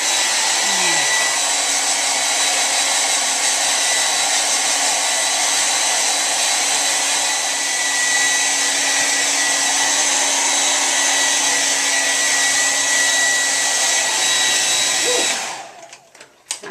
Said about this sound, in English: And then I'll dry this hair. Get this hair dry.